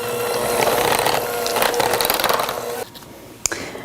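Cream cheese, vanilla extract and salt are mixed together into frosting, a steady close mechanical whirring and rattling that runs for almost three seconds, then cuts out, leaving a faint tail and one sharp knock.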